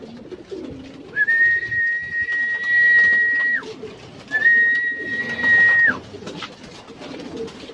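Pigeons calling near a home coop, two drawn-out, clear whistled tones rising out of soft background noise, close and moderately loud.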